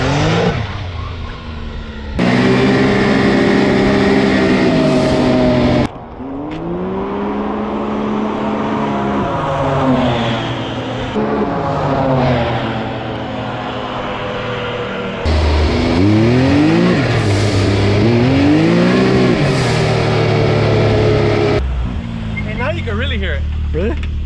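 A loud 2021 Can-Am Maverick X3 side-by-side engine fitted with a blow-off valve revs repeatedly, rising and falling in pitch with bursts of acceleration, close by and continuous.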